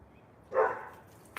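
A single short dog bark at a gate, close and fairly loud against quiet surroundings, with a brief click just before the end.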